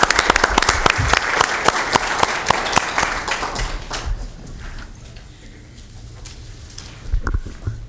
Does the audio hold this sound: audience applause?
yes